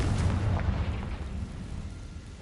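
A Confringo fire spell blasts in Hogwarts Legacy, a loud low boom right at the start that rumbles and slowly fades over a couple of seconds.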